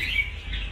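A caged red-whiskered bulbul (chào mào) gives a brief, clear chirping call against quiet room noise, with no voices.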